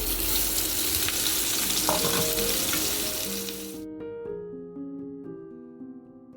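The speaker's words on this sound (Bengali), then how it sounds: "এবার আমি পেঁয়াজটা দিয়ে দিচ্ছি।" Onions fry in a pan for home-made chicken biryani, a loud, close, steady sizzle with stirring scrapes that cuts out partway, leaving a few seconds of sustained musical tones fading out.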